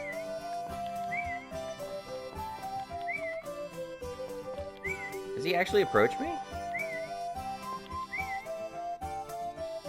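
In Story of Seasons: Friends of Mineral Town, the farmer character whistles in short, repeated rising chirps over a looping music track, and a person speaks briefly partway through.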